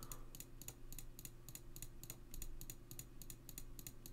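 Someone clicks the Discord home button again and again, about a dozen crisp clicks at a steady, quick rhythm over a faint low hum.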